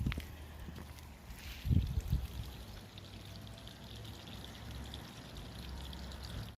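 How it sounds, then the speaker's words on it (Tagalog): Water pours and floods across a small vegetable garden plot in Korea, a soft, steady rushing flow with a brief louder gush near the start before settling into a continuous gentle stream. "Yan, nagbaha ng tubig."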